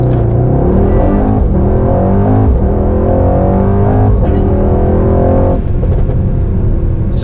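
A Mercedes-AMG GT 63 S 4-door accelerates hard with a loud, close engine note. The pitch climbs in repeated sweeps, each cut off by a sharp drop at an upshift. No one speaks.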